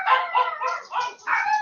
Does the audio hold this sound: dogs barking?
yes